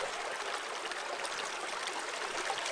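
Stream water rushing and trickling steadily into the wide opening of a dry bag held in the current, a close, continuous broadband splash with no voices.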